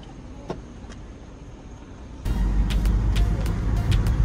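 A car starts moving after being coaxed to drive while low on fuel; engine and road rumble rise suddenly midway and continue steadily, with faint intermittent clicks over the low drone.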